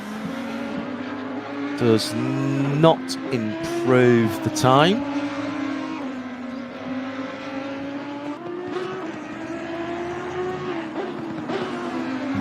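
A GT race car in a sim racing game revs and shifts close by with tire squeal, engine tone sweeping as it goes through a corner, while a commentator talks over it.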